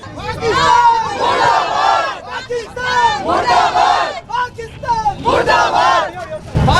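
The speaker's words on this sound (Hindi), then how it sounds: "यहाँ पर पाकिस्तान मुर्दाबाद के नारेबाजी की जा रही है" Large crowd in Jaipur chanting anti-Pakistan slogans at a protest, loud, rhythmic shouted chants in repeated bursts with overlapping voices, close and dense.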